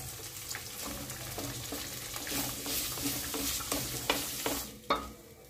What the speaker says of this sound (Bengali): ডিমটা ভাজার জন্য দিয়ে দিচ্ছি।